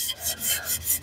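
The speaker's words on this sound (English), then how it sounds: "doing a little wet sanding" Wet sanding on the edge of an aluminum wheel from a Square Body Chevy hotrod, wetted with soapy dish-soap water: quick, close back-and-forth rasping strokes, about five in a second, with no talking.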